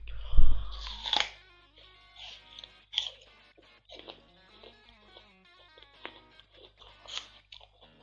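Crunchy chewing of an apple, with a loud bite near the start and then scattered, softer crunching bursts spread irregularly through a quiet background.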